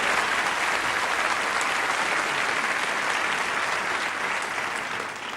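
A theater audience at a comedy show by Dany Boon breaks into loud, sustained applause, a dense, even roar of many hands clapping that continues without pause and only eases slightly at the very end.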